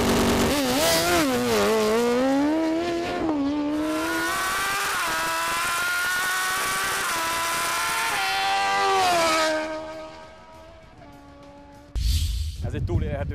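A high-powered vehicle launches at full throttle with a loud, close engine roar that climbs and shifts through rising revs for several seconds, then cuts off sharply into quiet, followed by a brief burst of noise.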